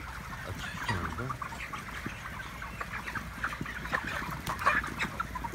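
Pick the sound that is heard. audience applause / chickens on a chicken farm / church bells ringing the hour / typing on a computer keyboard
chickens on a chicken farm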